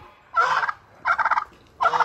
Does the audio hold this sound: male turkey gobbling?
yes